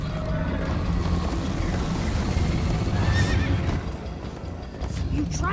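A horse neighs and its hooves clip-clop at a gallop in the Minecraft Story Mode video game, loud and near, with game music and character voices layered over the scene.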